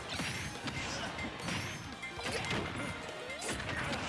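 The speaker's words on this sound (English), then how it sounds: "And the grenades coming in." Grenades exploding during a Super Smash Bros. Ultimate tournament match, a dense run of loud, close crashes and bursts every second or so over constant busy game noise and crowd din, with faint commentary voices underneath.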